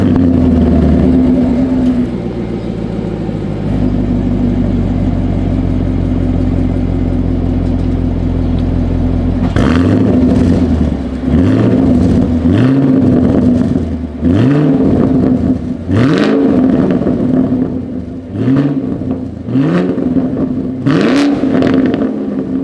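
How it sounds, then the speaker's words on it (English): A 2022 Chevrolet Camaro SS idles with a deep exhaust burble, then revs repeatedly in sharp bursts, loud and close, each rise falling back to idle. "As always, here is that exhaust clip."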